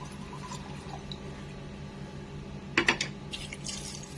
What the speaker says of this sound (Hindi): बस इतना पानी डालेंगे।